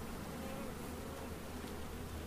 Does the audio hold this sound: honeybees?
yes